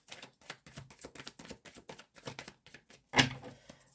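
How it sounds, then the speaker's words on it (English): Tarot cards being shuffled during a reading: a run of quick, papery riffling taps in an uneven rhythm, close and moderately soft, ending in one louder flicking snap. "Let me shuffle it one more time for you guys."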